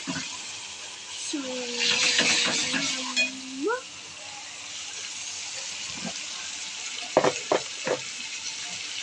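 Masala fries in oil for a chicken curry, a soft continuous sizzle with occasional stirring clinks, while a voice speaks briefly over it early on.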